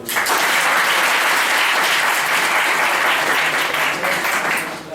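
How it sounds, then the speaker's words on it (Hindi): A large seated audience at a motivational talk breaks into loud, dense applause that stays full and even for about five seconds, with a faint murmur under the clapping. "एक बार फिर तालियां सुनने का।"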